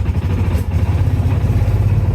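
The engine of a 1995 Kawasaki Mule KAF620A utility vehicle runs loud and close, a steady low throbbing rumble with a slight uneven clatter as it pulls away and drives.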